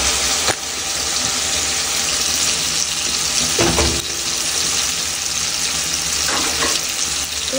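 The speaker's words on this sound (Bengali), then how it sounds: "টমেটো, মোটামুটি এরম ভাজা হয়ে গেছে, ভাজা। এবার আমি পেঁয়াজ কুচিটা দিয়ে দেবো।" Tomatoes fry in a pan for dried-fish shutki curry as chopped onion goes in, a loud, steady sizzle with a few sharper bursts of crackling, no one speaking.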